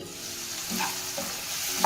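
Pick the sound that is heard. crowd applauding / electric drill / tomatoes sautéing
tomatoes sautéing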